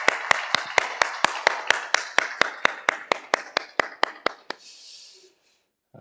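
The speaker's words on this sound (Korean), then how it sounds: "여러분 기쁨과 환영의 박수로 한번 환영했으면 좋겠습니다" Church congregation in a service gives welcoming applause for visiting guests, heard as a steady run of about twenty sharp, evenly spaced claps that fade out after four and a half seconds.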